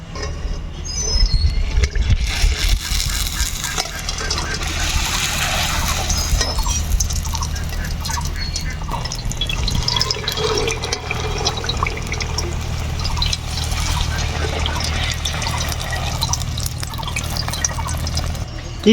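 Fuchka puris made from wheat flour fry in smoking-hot oil with a loud, dense bubbling crackle that swells after they drop in and stays busy and close throughout.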